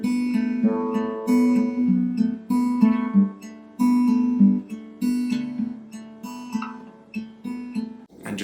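Acoustic guitar plays the verse phrase of a song, fingerpicked notes and chord strums in a repeating pattern over about eight seconds, clear and close with no voice.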